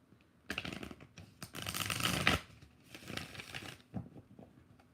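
Tarot cards riffled and shuffled in quick papery bursts, a long rushing run in the middle with shorter flutters and taps before and after, close and fairly quiet.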